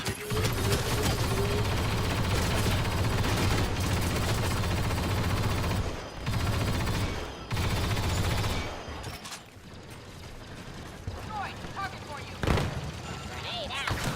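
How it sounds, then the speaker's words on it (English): Sentry guns fire in rapid bursts in Star Wars Battlefront II, loud dense gunfire with a couple of short gaps, then fading into scattered shots and booms while voices talk over the battle. "Sentry guns online."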